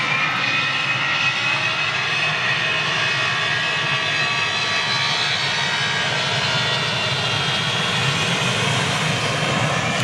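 A 26-year-old ex-Continental Boeing 757 jet roars steadily at Manchester, a loud, continuous engine drone that holds unbroken for the whole stretch with no voices over it.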